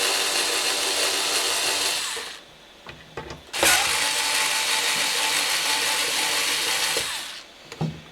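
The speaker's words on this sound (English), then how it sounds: "we'll pull out those 2 screws, and then we'll pull out the odometer" Screws are taken out of the VDO odometer unit of a Mercedes 300D with a power tool, heard as two long, loud whirring bursts separated by a brief pause with small clicks.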